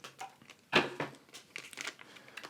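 Ink cartridge packaging being opened, crisp crinkling and rustling of plastic wrap with one sharp loud tear near the start, followed by several softer crackles close by.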